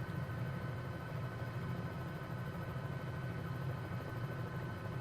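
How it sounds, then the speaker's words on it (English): A Bell 206B3 helicopter in Microsoft Flight Simulator runs steadily, a constant low engine and rotor drone with broad hiss, even and unbroken throughout with no talk. "But I do like this helicopter a lot."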